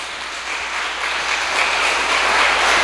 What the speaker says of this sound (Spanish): Le podemos dar un fuerte aplauso al Señor.